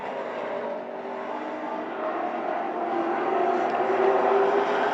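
Race cars running down the back straightaway on the final lap of a heat race at Shangri-la 2 Speedway, a blended engine drone that grows gradually louder, heard from a distance with no talk.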